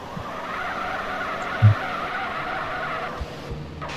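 A demolition car in the PSSM car game drives fast with a steady engine and tire noise, a sharp thump and skidding swishes, moderately loud without talking.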